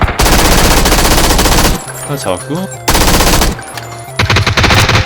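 Loud bursts of rapid automatic gunfire from a first-person shooter game, two long volleys broken by quieter gaps with scattered shots, while a player speaks briefly between them.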